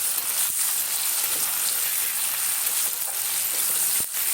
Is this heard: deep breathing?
no